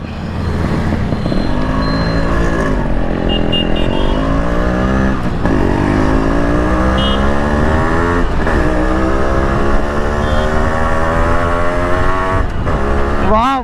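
Yamaha RX100 two-stroke motorcycle being ridden, its engine loud and close with a continuous buzzing drone that rises and falls through the gears, with faint talk underneath.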